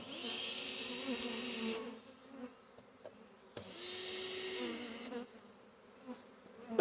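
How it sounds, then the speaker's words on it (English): A honey bee swarm hangs on a trap box, its buzzing close and loud in two sustained bursts separated by quieter gaps where scattered bees hum faintly nearby. "Not a lot of bees inside the box, so they're all out here, would appear to be."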